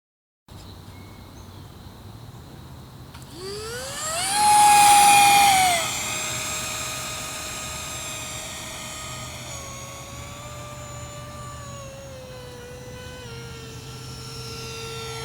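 An electric ducted fan model F-18 Super Hornet with a 12-blade 50mm fan flies past, its whine rising in pitch into a loud passing rush and then settling into a steady, fainter tone as it moves away.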